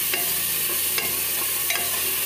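Tomatoes, salt and turmeric stirred in a hot pan with a steady sizzle and a few brief scraping clicks of a spoon, close and alone.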